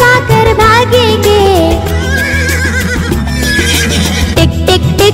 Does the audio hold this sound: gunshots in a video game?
no